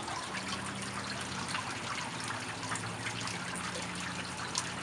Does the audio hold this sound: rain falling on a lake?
yes